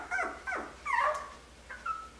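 Four-week-old Aussiedoodle puppies whimper and yip in a few short, high, close whines, with brief quiet gaps between them.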